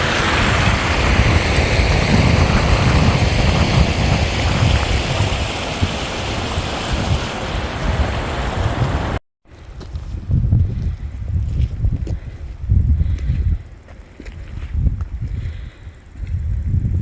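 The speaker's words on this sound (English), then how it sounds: "There's literally all we can hear is the water, a little bit of wind." Loud rushing flow of water with gusty wind at an abandoned mine, dense and continuous at first, then thinner and more buffeted by wind after a brief dropout.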